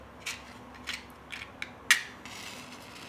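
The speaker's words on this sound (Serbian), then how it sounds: "Sada će mi trebati šibica" A match is scraped several times against its box to light a cooking fire. Four or five short, close, dry strokes are followed by a brief bright flare and a soft hiss, in a quiet room with no talking.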